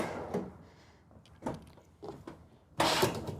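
A full-extension pull-out drawer in a Tiffin Zephyr motorhome kitchen slides in several short, soft rolling strokes, with a firmer thump at the end, heard close up.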